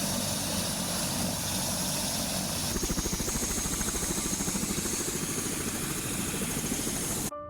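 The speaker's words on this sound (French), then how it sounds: "C'est dans cet hélicoptère que je vais être évacué." A helicopter in Nepal's fog-covered mountains runs nearby, a loud steady engine whine and roar with a rhythmic rotor thump coming in partway through, then cutting off abruptly near the end.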